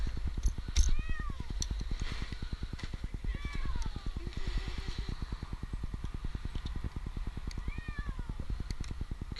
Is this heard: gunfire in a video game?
no